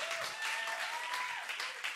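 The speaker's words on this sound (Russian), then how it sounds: "Ну, можно аплодисменты хорошие сделать." Congregation applauding worship singers at a church service, a dense even patter of clapping with a faint tone running through it, steady and moderately loud.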